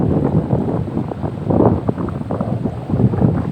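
Strong wind buffeting the microphone beside the Pa Sak reservoir in Lopburi, Thailand, a loud rumbling, gusty roar that surges and dips throughout with no voices.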